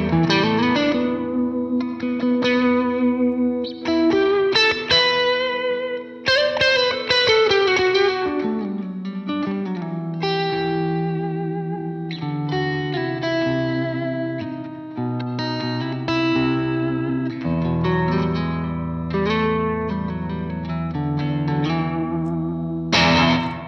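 An electric guitar with its humbucker coil-split to single-coil plays chords and riffs through an ENGL Ironball Special Edition amp, loud and continuous with a bright, effects-laden tone for the whole stretch.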